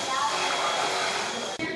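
Dremel rotary tool whirring steadily at high speed, a continuous buzzing hum with one brief dip near the end.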